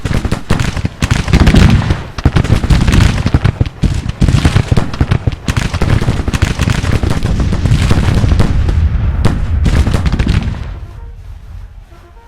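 Civil War gunfire and artillery in Grand Tactician: The Civil War, a plantation battle: a loud, continuous barrage of overlapping musket volleys and booming cannon, dense and rolling, that thins out and fades near the end.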